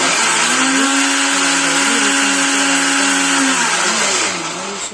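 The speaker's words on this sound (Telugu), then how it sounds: "ఇక్కడైతే మిక్సీ" A mixer grinder whirs loudly and steadily, its motor pitch wavering as it runs, then the sound drops off near the end.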